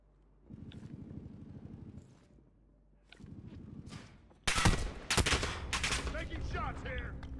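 Heavy gunfire from a Battlefield battle, with a low engine-like rumble at first, then loud, dense bursts of automatic shots and explosions crackling close by through the second half.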